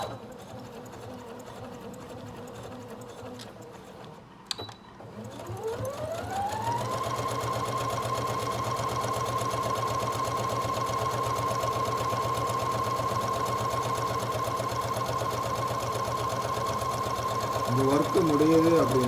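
A Brother DS1300 sewing machine set to medium speed runs up to a steady, continuous whirring stitch that holds evenly for most of the stretch, close and clear, with a brief click before it starts.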